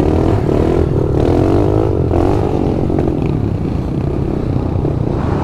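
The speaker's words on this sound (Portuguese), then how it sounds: "A moto dele vai ficar apagando" Motorcycle on a dirt trail, its engine revving unevenly with a rough low rumble and clattering mechanical noise, loud and close throughout without speech.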